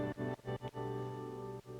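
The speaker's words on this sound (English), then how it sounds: "this is just basically a really wet reverb signal, which is being sidechained by a kick drum" A very wet modular-synth reverb wash, its level pumping in time with a sidechaining kick drum: sustained tonal chords that repeatedly duck and swell in short rhythmic gaps, moderately quiet and without voices.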